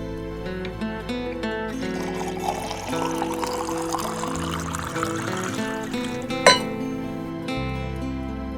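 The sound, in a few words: water poured into a glass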